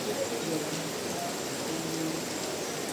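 Steady rain falls in Bandung, Indonesia, a soft, constant hiss that holds evenly throughout, with faint voices in the background.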